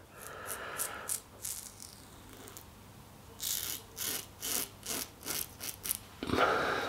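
Repeated rough scraping strokes of a Parker 65R safety razor, close and fairly loud, in short bursts with brief pauses between them, like a blade rasping over stubble.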